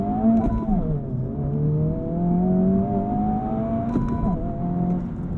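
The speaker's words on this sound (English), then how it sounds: "Let's take a quick intermission with our race box setup here to do a 0 to 60 test." A hot hatch car accelerates hard from a standstill to 60 mph, its engine note climbing loudly and steadily, with dips where the gears change, heard from inside the cabin without talk.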